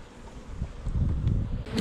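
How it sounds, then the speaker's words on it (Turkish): Honeybees buzzing in an open hive, a steady low drone from many bees close to the microphone, swelling slightly louder in the second half with no talk. "Şunlar erkek arılar."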